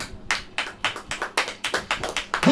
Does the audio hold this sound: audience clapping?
yes